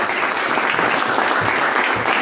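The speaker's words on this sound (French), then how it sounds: "on les applaudit" An audience at an awards evening claps steadily and densely, a short continuous burst of applause with no voices on top.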